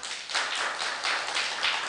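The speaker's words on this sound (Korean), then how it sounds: "박수 크게 쳐요." Audience clapping loudly at a Korean church sermon, a dense, steady wash of many hands with rhythmic surges, close and continuous, no voices.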